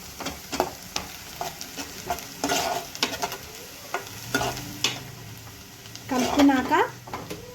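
Turmeric stirred into masala curry in a hot pan, a sizzle running beneath repeated close scrapes and clinks of a spoon against the pan, louder toward the end.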